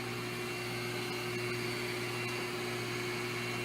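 An HPC1200CMB locksmith key machine runs while cutting a key blank, giving a steady, even motor hum with faint scraping, close and continuous throughout.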